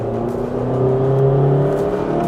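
Honda Amaze car engine with a manual gearbox, revving steadily with a smooth, rising hum that swells slightly midway, close and continuous without any talk.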